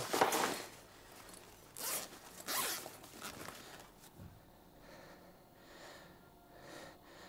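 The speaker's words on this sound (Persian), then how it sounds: "باز کن زیپشو" The zipper on a bag is pulled open in several close, rasping strokes, with soft breathing and sniffs in a quiet room between and after the pulls.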